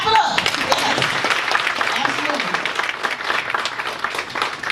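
An audience at an NAACP Freedom Fund gathering claps for a police chief being honored, sustained applause with voices and cheering heard through it.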